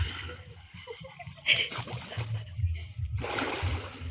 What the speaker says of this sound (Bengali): তো এই যে আমি এখন ডুব দিচ্ছি প্রথম ডুব স্টার্ট